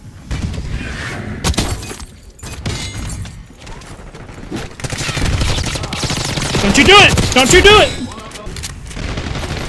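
Grenade blast in the Call of Duty Black Ops 6 online shooter, a loud shattering burst amid gunfire and game noise while a player shouts over it.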